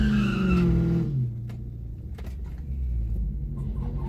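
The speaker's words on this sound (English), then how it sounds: "got me to do my burnout" A car does a burnout at a drag strip on a hot day: a loud engine roar with tires squealing and skidding, easing after a second into a steady rumbling drone.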